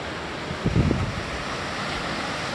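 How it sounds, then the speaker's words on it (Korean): Ocean waves at Jumunjin beach in Korea on an evening, a steady, broad roar of surf and wind with one brief louder rush near the start, no voices. "바다 소리가 엄청납니다."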